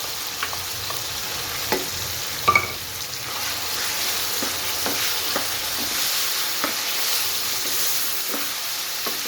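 Tomato paste goes into ginger-garlic paste frying in a karahi for Afghani chicken karahi, giving a steady close sizzle broken by scattered light taps and stirring clicks, with no talk.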